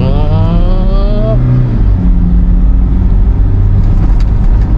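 A 2010 Toyota Innova diesel MPV with automatic transmission revs hard under full throttle, its pitch climbing steeply and then settling into a loud, steady drone as the vehicle accelerates.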